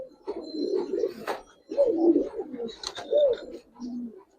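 Giribaz pigeons coo in a series of throaty, rolling calls in several bursts, close and fairly loud, with short pauses between phrases and no talking.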